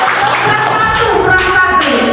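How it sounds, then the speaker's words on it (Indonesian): Group of people clapping hands together in a classroom-style activity, a dense patter of claps mixed with voices and some tapping, moderately loud throughout. "Tepuk tangan untuk kita semua."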